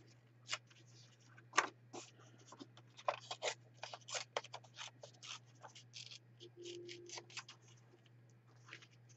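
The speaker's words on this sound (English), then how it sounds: "I'm just going to tear her out a dress" Paper torn by hand into a paper doll dress, a series of short crisp rips and rustles in uneven bursts, close and fairly quiet over a low steady hum.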